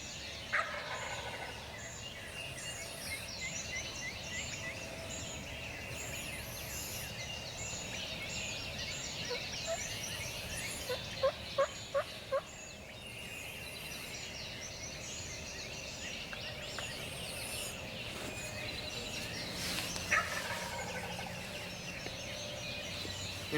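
Wild turkey gobblers gobble far off in the distance during a spring hunt, several faint rattling calls rising over quiet woodland ambience, with a brief louder cluster of knocks midway.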